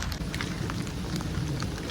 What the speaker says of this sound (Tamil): மழை நிற்கும்ட்டு சரியான மழை